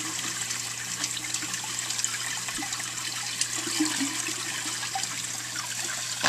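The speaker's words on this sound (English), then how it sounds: "The only noise I have down here is the water going overflowing down" Water from a reef aquarium overflow pours steadily down into the sump below a tank fitted with a Reef Octopus skimmer, a continuous close splashing rush with small gurgles and no talk.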